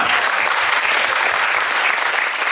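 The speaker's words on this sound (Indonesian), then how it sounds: "Tepuk tangan untuk kita semua." A school audience claps steadily through a KSPAN student council inauguration ceremony at SMPN 2 Mengwi, a dense, even wash of many hands filling the room with no voices.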